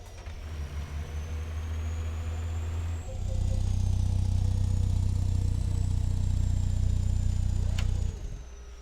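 Simulated truck diesel engines from the ZEEMODS sound packs for a trucking game mod, such as the Cat 3406B, C15, Detroit Series 60 and N14, rumbling low and steady, stepping up louder partway through and then cutting off near the end.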